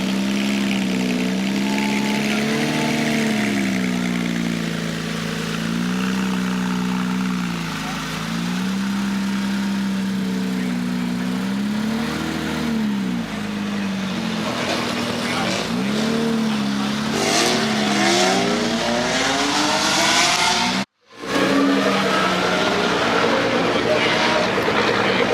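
A Porsche GT3 RS backs up in a parking lot, its engine holding a steady loud idle with rising and falling revs, and someone talks over it throughout.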